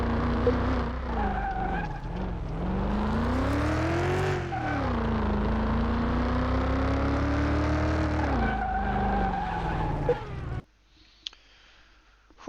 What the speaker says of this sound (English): that was actually a loud engine